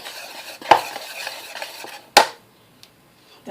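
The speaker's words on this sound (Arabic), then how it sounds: "نخلطوا خميره" Yeast stirred into warm water in a bowl for pizza dough: two sharp spoon clinks against the bowl, up close, with soft swishing and faint background noise between them.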